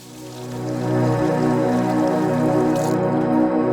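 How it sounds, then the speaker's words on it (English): Warm tap water runs steadily onto leather being soaked for forming a sheath, a continuous close, even flowing wash that builds in the first second and holds with no talk. "You're going to use warm water from the tap, not hot water, warm water."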